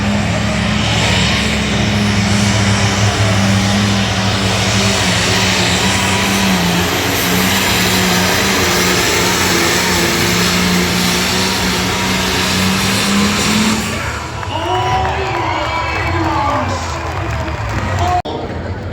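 A loud, sustained pulling-tractor engine roar holds steady for a long stretch at a tractor pull, then drops off, with a crowd and a voice over a loudspeaker audible underneath.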